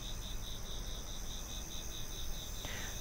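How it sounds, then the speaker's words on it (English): Night insects on a warm 3 a.m. summer night outdoors: a steady, pulsing chirp repeats rapidly against a dense, constant hiss of background insect noise, with no voices. "Frogs and cicadas are definitely out"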